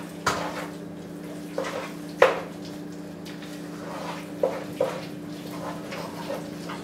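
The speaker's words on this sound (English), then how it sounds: "we're going to stir this and let it cook until the cheese just melts" A spoon scrapes and knocks against a pot while Parmesan cheese sauce is stirred, giving several soft clinks and scrapes spread irregularly over a steady background hum, fairly quiet and close.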